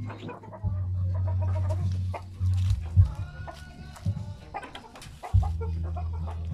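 Peruvian chickens cluck and murmur steadily close by, with a low continuous hum underneath and no talking.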